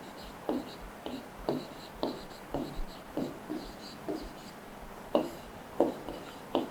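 Pen strokes scratch on paper as a math expression is written out by hand, a steady series of short close scrapes at about half-second intervals, quiet and without speech.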